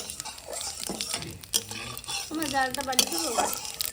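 Spices tempered in hot oil left from frying snakehead fish, a lively crackle and sizzle with scraping and clinking of a utensil against the pan, while voices talk intermittently over it.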